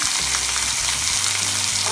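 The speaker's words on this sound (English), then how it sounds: "I'm going to add some water now." Water poured into a hot pan of oil for Trinidad and Tobago stew fish sizzles loudly and continuously, a dense close hiss of frying with faint stirring and no talk.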